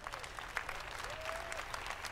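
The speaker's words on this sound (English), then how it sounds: "Let's give them all a round of applause." An audience at EA's E3 2018 video game press conference applauds, a dense, steady round of clapping from a big crowd that holds evenly throughout, with a faint tone beneath.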